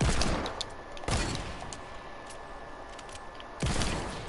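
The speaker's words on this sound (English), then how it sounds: "I hear gunfire, but I don't know where he is." Gunshots in a video game sound as a few sharp, separate cracks spread over several seconds, with a quieter popping between them, all fairly faint and with no voices.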